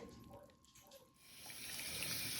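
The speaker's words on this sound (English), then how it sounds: "We're going to rinse this with cold water." Cold tap water running to rinse salted napa cabbage for homemade kimchi, a soft hiss that swells into a steady rush in the second half, fairly quiet and close, with no talking.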